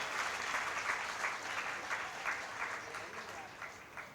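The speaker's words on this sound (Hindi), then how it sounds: "भरपूर तालियों के साथ स्वागत करिए" A seated assembly at a Jain religious sermon gives a welcoming round of applause, a steady rustling wash of many hands clapping, fairly faint and distant, with soft pulses throughout.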